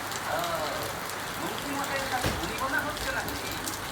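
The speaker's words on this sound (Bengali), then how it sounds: "একটু আগে অনেক তুফান ছিল, এখন বৃষ্টি পড়ছে।" Rain falls steadily after a storm, a continuous soft patter and hiss on surfaces with occasional louder drops, heard close under intermittent talking.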